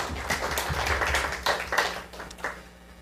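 A church congregation at a Korean prayer service claps together, a dense burst of hands that swells and fades over a few seconds, moderately close in a reverberant hall.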